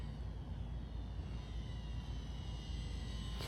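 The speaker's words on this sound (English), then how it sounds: "let's go ahead and see how she takes off and lands. Smooth takeoff," A UMX P-47 radio-controlled warbird flies just after takeoff in light wind, its small electric motor a steady, fairly loud whine over outdoor rumble that holds evenly throughout.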